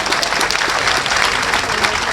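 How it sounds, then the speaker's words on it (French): Crowd applause at a political opposition meeting in Benin ahead of legislative elections, a dense steady clapping that fills the space for about two seconds without a break. "Il faut applaudir."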